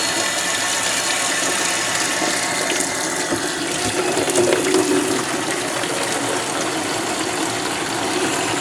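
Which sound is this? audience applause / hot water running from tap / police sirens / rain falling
hot water running from tap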